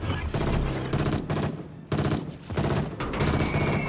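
Bombs dropping and exploding in a naval combat video game, loud bursts of rapid blasts and gunfire in several waves, close and dense.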